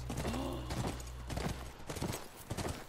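Horse hooves clip-clop in The Last of Us near a ranch, a quick run of close hoofbeats over game ambience with a brief snort-like tone.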